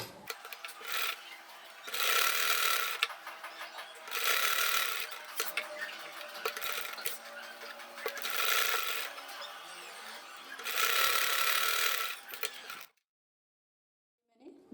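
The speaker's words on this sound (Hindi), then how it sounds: "फोल्ड किया, यहाँ पे रखा, इस पे सिलाई लगा लेंगे।" A sewing machine stitches a folded cloth strip onto a shopping bag, running in several loud bursts separated by quieter rubbing and handling, then falling silent at the end.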